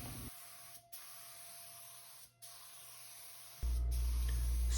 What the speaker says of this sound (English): And we'll start spraying.